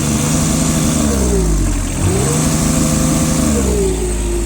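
A Kubota KX-021 mini excavator's diesel engine runs steadily and close by, its note dipping briefly midway before settling back to a constant drone, with no talking.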